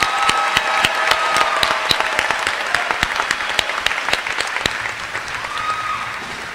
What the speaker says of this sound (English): Please give a long round of applause for the class of 2018.